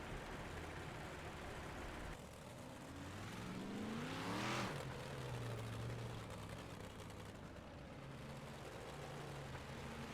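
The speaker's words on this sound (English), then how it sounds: "Pace truck is rolling." A pace truck rolls around a dirt race track at Lernerville during a racing event, its engine rising as it approaches and falling away after passing, over a constant distant rumble of other vehicles.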